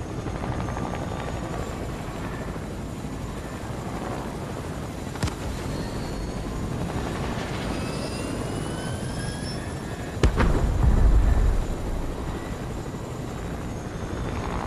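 Helicopter in the video game Fortnite, a steady rotor and engine drone that holds throughout, with a sharp impact and a short louder low rumble partway through.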